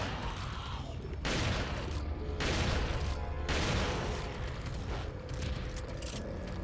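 Gunfire in the video game Resident Evil 4, several loud, abrupt shot bursts spaced over a few seconds within a dense, noisy game mix.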